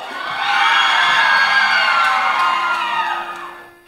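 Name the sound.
crowd applauding and cheering for a contestant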